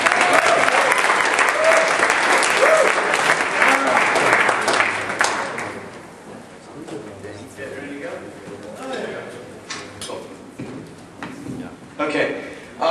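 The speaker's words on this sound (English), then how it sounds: "let's give him a huge round of applause" An audience claps warmly to welcome a speaker onstage at a talk, a dense burst of applause for about six seconds that thins to scattered claps, with voices and stage noises carrying on afterward.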